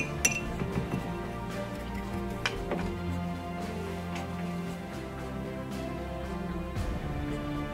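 A Citadel paint pot being handled with a brush, small glassy clinks and taps against the pot, a few soft close ticks over a low steady background hum.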